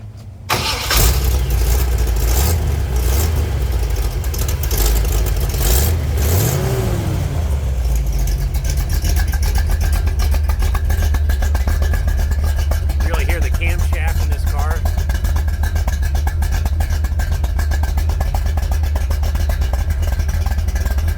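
A 1970 Chevrolet Corvette convertible with a 350 V8 and four-speed cranks and fires, then settles into a loud, deep, steady idle that continues close by for the rest of the clip.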